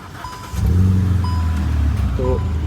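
Hyundai i20 fitted with a full-system aftermarket exhaust settles into a steady, deep idle after a quieter start, its low rumble close and continuous with faint beeps over it.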